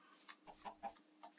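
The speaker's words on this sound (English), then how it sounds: "That's a chicken, by the way." A Minecraft chicken gives a short run of soft clucks, about five quick, faint bursts in close succession, with no other sound around them.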